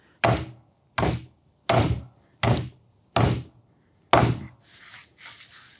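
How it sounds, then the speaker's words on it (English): A titanium hammer drives a nail with six loud, sharp wooden thunks spaced roughly evenly, followed by softer scraping or rubbing at the end, close and alone. "it'll knock a nail down just fine, especially when I hit the head"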